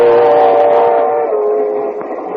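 Steam train sound effect from a 1944 radio comedy broadcast, a sustained whistle-like chuffing rumble with layered tonal hum, steady and loud, fading slightly toward the end with no talk.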